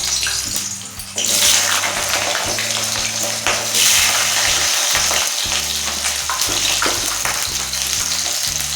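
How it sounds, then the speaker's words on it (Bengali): Potatoes fry in hot mustard oil in a wok, giving a loud, steady hiss and sizzle throughout, with occasional stirring scrapes. "তেল গরম হয়ে গেছে, আলুগুলি ভেজে নিচ্ছি।"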